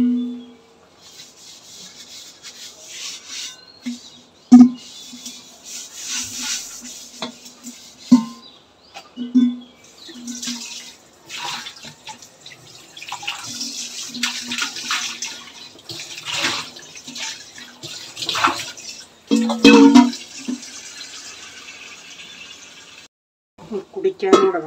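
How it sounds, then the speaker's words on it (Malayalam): A cooking pot being scrubbed and rinsed with water in a home kitchen: repeated rubbing and scraping strokes with splashes and occasional sharp knocks of the vessel, fairly close, with a person talking over parts of it. "കലം കഴുകിയിട്ട് ഇനി വല്ലതും പറയുള്ളൂ."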